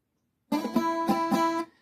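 After a moment of silence, a short electric guitar lick from a song's intro plays with a few rhythmic repeated chord hits, then cuts off abruptly.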